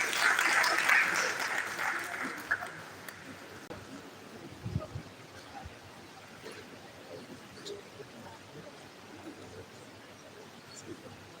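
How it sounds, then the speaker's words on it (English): Audience applause at an academic event on educational psychology and artificial intelligence, loudest at the start and then thinning into scattered claps and a faint murmur of voices. "please a round of applause to"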